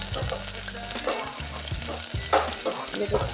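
Green peas and gram flour are sautéed with onion in a little oil, with a lively sizzle broken by repeated clatters and scrapes of a spoon stirring the pan.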